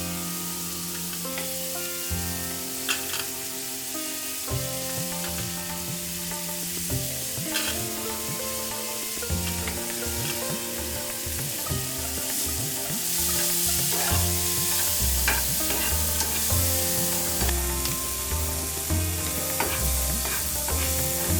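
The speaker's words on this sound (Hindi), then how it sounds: "अब अनियन, ग्रीन चिलीज और गार्लिक को डालें फ्राई करने के लिए।" Onions, green chillies and garlic fry in a pan with a constant sizzle and occasional stirring clatter, heard under steady background music for about twenty seconds, no voices.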